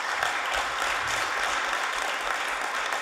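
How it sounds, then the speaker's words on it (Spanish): Audience at a mechanization seminar applauding, a dense, even wash of many hands clapping at moderate level for a few seconds. "un aplauso para todos ustedes"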